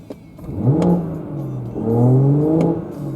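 A BMW 340i M Sport with a 3.0L engine rumbles nearby, rising in two revving swells with a deep, throaty tone and a light mechanical clatter.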